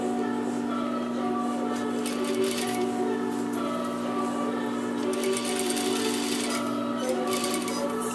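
A sewing machine runs steadily while stitching a shirt collar, a continuous close mechanical whir with a fast regular needle rhythm throughout, no voices over it.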